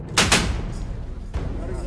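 Military gunfire during Air Force commando training with heavy weapons: two sharp, loud shots in quick succession, then a third report about a second later, with shouted commands in the background.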